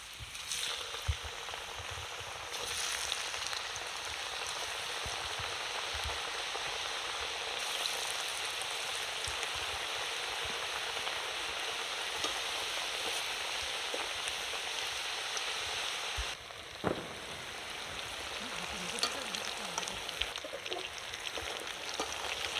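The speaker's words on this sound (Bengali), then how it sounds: "এবার আমি পিঠেগুলো ভেজে নেব।" Gokul pitha fry in hot oil in a wok with a continuous close sizzle and crackle, and a brief clatter of stirring or turning partway through.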